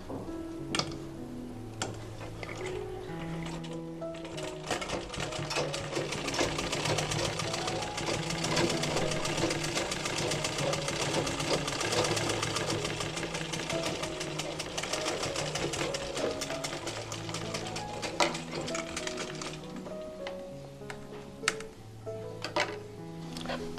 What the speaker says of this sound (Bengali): এরপর এই কাপড়টাকে ভিতরের দিকে এভাবে করে দিয়ে দিতে হবে আর সোজা পাটের দিকে সেলাই করতে হবে।